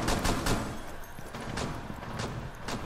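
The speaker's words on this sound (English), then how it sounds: "I'm using this pistol right now" Pistol fire in a multiplayer shooter game, a series of sharp cracks spaced irregularly across the stretch over a busy, dense game soundscape with no talk.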